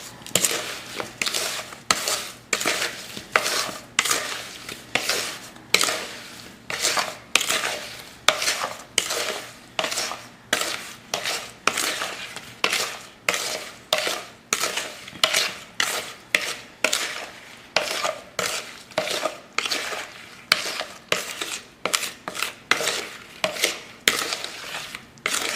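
Berries are tossed with sugar in a bowl, a long run of rhythmic scraping and clattering strokes, close and brisk, repeating every second or so with no talking.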